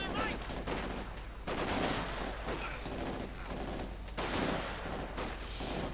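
Dense gunfire, machine-gun bursts and explosions from a Company of Heroes 2 battle between shock troopers and grenadiers form a loud, continuous din, with a voice faintly underneath.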